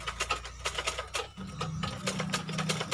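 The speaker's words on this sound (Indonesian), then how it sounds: "pemula disarankan menjahitnya pelan-pelan aja ya, ntar tangannya ikut kejahit" A sewing machine stitches new fabric onto a motorcycle seat cover for a Jumper Z1, running in steady rapid bursts of close, loud mechanical clatter with a low motor hum and no voices.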